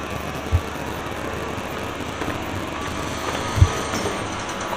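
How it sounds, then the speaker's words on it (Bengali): The 12881 Garib Rath Express at Cuttack Junction gives a steady rolling rumble of railway cars, broken by two distinct heavy thumps from the wagons. "কটক জংশন থেকে ট্রেনে উঠে পড়লাম এই মুহূর্তে।"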